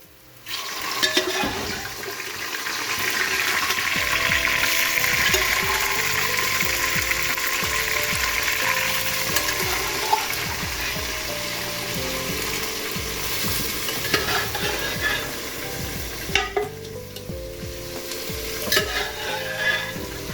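Onions fry and brown in a pan in intense heat, a steady close sizzle with stirring and occasional scraping and clinks throughout, no voices.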